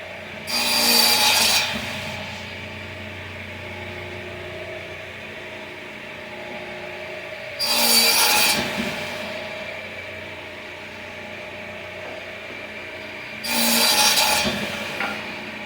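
A saw cuts wood for vanity face frames, working face up against a clamped stop block, in three loud rasping bursts of a second or two each, separated by quieter pauses with low background hum.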